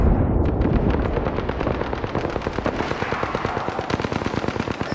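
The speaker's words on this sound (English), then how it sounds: "They spotted me. I'm taking shots." Automatic weapon fire rattles in a rapid, sustained burst during a solo match of the battle royale game Apex Legends. The shots are loud and close, with overlapping impacts and booming low thuds.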